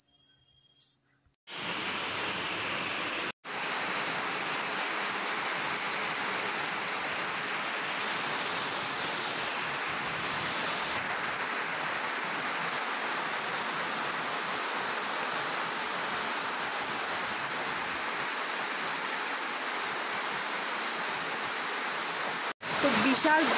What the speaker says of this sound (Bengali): তো বিশাল বৃষ্টি পড়ছে এখন